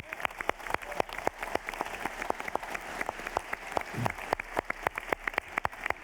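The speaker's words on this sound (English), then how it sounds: "I think they deserve a big round of applause for that." Applause from a conference audience at a data trends panel during a summit, with crisp separate claps from a modest crowd, some near and sharp, others softer, going on steadily for several seconds.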